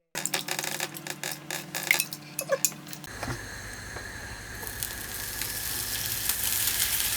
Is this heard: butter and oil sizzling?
yes